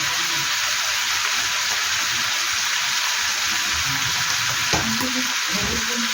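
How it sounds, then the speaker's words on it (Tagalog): Hot cooking oil splatters and sizzles steadily in a frying pan, a dense, continuous hiss close up with a few small pops and light stirring clinks, no talk. "talsik-talsik na natin mantika"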